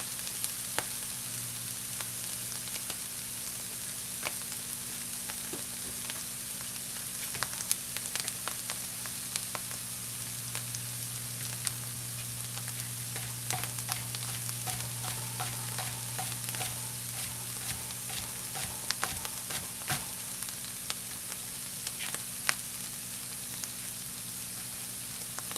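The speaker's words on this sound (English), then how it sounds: "So I'm just going to keep cooking these down until the onions get a little bit broken down and brown." Onions and mushrooms frying in a pan, a soft continuous sizzle with scattered crackles and pops, plus occasional light stirring scrapes, close but fairly quiet, with no voices.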